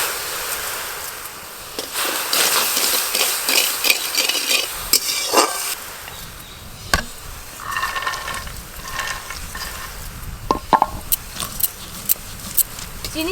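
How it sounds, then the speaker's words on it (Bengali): Sugar is stirred into half a bowl of water in a home kitchen to make syrup for cashew burfi, giving close scraping and clinking strokes in uneven bursts, with some talk in the background. "ওই জলে এবার আমি এই চিনি দিয়ে দেব"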